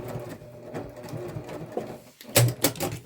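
A sewing machine stitches the pocket of a fabric messenger bag close by, its motor whirring in short bursts with rapid needle clatter and a brief pause between runs.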